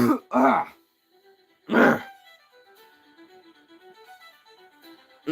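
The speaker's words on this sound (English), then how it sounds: "that was my first cough of the stream" Two harsh coughs, close to the microphone, sound during a live drawing stream, followed by quiet with a soft tonal background.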